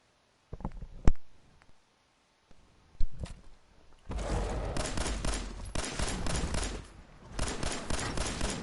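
Rapid gunfire from the video game Fallout 4: a few isolated shots early, then sustained bursts of automatic fire that rattle on for several seconds, close and loud, with no talking.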